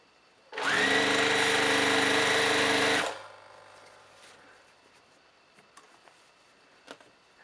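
A sewing machine runs steadily for about two and a half seconds as jelly roll quilt strips are stitched together, a loud continuous motor whir that stops abruptly, leaving quiet room tone.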